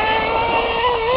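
Team Associated RC10GT off-road RC car with a .15 nitro engine, a high, buzzing whine held steady and loud for just over a second, with no talk.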